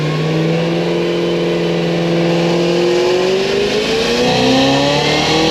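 A Stage 4 Cadillac CTS-V launches hard and accelerates, its engine note rising loud and close through a continuous pull with one shift partway, strong throughout without talking.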